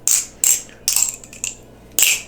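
Balisong butterfly knife flipped by hand: four sharp metallic clack bursts, each followed by brief rattling, spaced unevenly and close, with no talk.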